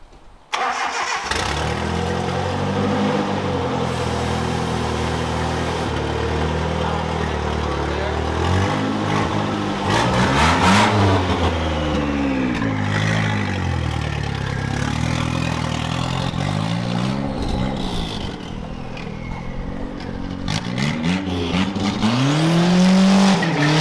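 Car fitted with a cheap Amazon turbo, its engine loud and close, revving repeatedly in rising and falling sweeps as it pulls away and drives, with tire noise and no talking.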